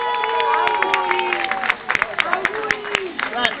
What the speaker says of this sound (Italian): facciamo un applauso questa sera per il compleanno di Giorgio Giuseppe